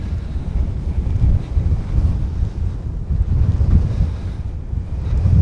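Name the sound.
strong cold north wind on Death Valley sand dune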